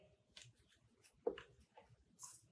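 Scissors snip through soft craft foam faces to cut out a shape for a robot craft: quiet, close, irregular little cuts and rustles.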